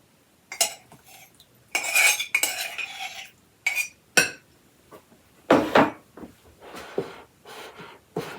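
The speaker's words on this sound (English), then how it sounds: "We'll just get that mixed in good." Melted butter is worked into sourdough coffee cake batter in a bowl, producing intermittent bursts of utensil scraping and clinking against the dish, separated by short quiet gaps.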